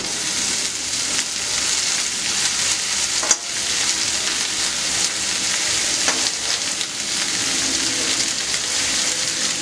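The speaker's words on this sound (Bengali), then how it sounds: "এতে আমি দিয়ে দেব কুচিয়ে রাখা শাকগুলো" Chopped amaranth greens (note shak) sizzle steadily in tempered oil in a pan, with a dense, loud frying hiss throughout and an occasional stir or clink. There is no talk.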